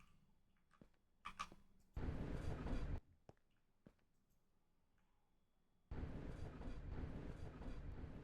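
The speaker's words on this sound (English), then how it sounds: "Then we have the subway locomotive." In a Minecraft Bedrock trains addon, a subway locomotive runs with bursts of loud rumbling engine noise between quiet gaps dotted with sharp clicks, the rumble returning steadily at the end.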